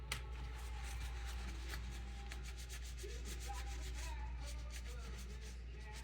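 Brisk scrubbing of weathering onto a 1/64 scale model farm building, a quiet, steady rapid rubbing texture with repeated short strokes over a low background hum, no talk.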